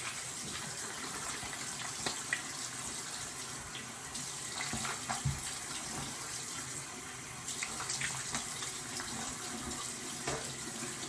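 Water runs steadily from a tap into a sink while someone washes their face with cleanser, a soft, continuous flow with small splashes and shifts, heard fairly quietly and alone.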